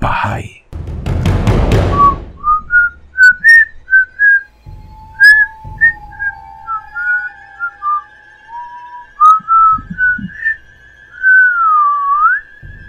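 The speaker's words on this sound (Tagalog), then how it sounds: "Sumisipol ito na parang may papatayin." Eerie melodic whistling in a horror story, a slow wavering tune of separate notes and long glides, loud and close, following a sharp burst of noise at the start.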